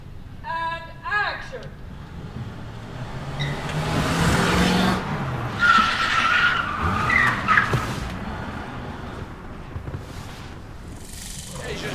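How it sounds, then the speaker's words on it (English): A Mustang drives and skids through town, with engine rumble and a few sharp tire squeals rising and falling over several seconds, moderately loud, while people talk in the background. "Starting out with scenes in the day where Susie's driving the Mustang through the town"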